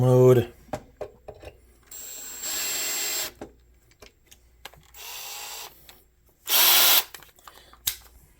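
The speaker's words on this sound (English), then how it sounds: "Put that in drill mode." A power drill whirs in several short, loud bursts while disassembling an Allen and Heath ZED10/FX mixer, separated by quiet gaps with clicks and handling noises.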